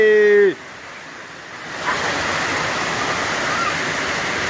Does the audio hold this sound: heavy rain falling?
yes